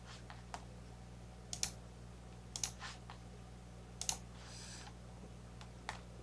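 Mouse clicks in the Unity editor: a few sharp, close double clicks spaced a second or two apart over a constant low electrical hum, faint and without speech.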